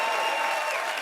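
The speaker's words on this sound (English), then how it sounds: "Thank you, smattering of applause" A smattering of studio audience applause at a comedy show: faint, thin, continuous clapping heard from a distance, with no talking.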